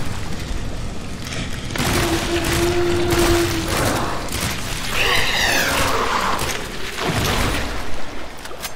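Pistol shots in the survival horror game Resident Evil 2 Remake, with a dense, continuous stretch of loud shots and impacts mixed with mechanical game noise, sustained throughout without clear pauses.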